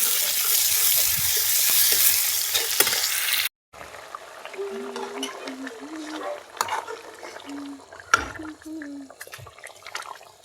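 Onion and tomato sautéing in a pan in a village kitchen, with a loud hissing sizzle for a few seconds that cuts off abruptly. Quieter stirring and clatter follow under a person talking.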